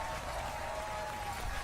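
A live audience clapping, a dense, even wash of applause held steady through the short stretch with no voices on top.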